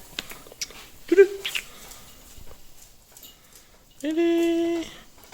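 A small puppy gives brief whimpering yelps, followed by a sustained, higher whine, close by in a kitchen where tilapia is being prepared for soup.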